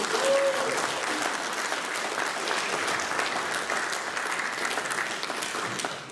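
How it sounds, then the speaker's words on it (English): Audience applause for a church worship team at a youth gathering, steady dense clapping from a crowd that holds for several seconds before tapering slightly at the end. "If we can just give them a round of applause."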